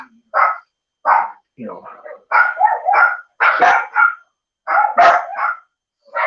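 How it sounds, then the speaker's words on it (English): Dogs bark in repeated short bursts nearby, loud and clear, with a person talking briefly among the barks. "And I got dogs barking again."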